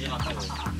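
Hens clucking up close in a short burst, a couple of brief throaty notes rising and falling within less than a second, with faint background noise.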